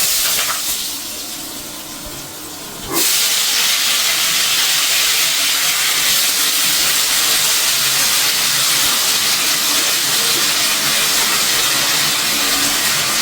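Washed potato and papaya dropped into hot oil tempering, a sudden loud burst of hissing sizzle that swells at once and then holds as a strong, steady crackle close by.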